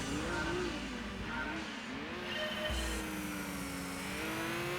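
Turbocharged car engine in the racing game Gran Turismo 2, a steady whining drone rising and falling in pitch as it accelerates, sustained and moderately loud with no voices.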